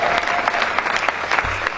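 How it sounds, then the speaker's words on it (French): A church congregation breaks into applause during a French-language sermon, a dense, steady patter of many hands clapping together for a couple of seconds, with faint voices mixed in. "Est-ce que quelqu'un peut acclamer la parole?"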